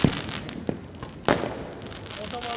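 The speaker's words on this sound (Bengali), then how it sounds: "ওরা ফাটাচ্ছে, বিকাশ বিকাশ বিকাশ ফাটাচ্ছে" Firecrackers bursting outdoors on New Year's day, a few sharp separate bangs over a steady crowd-like background, with people talking and shouting nearby.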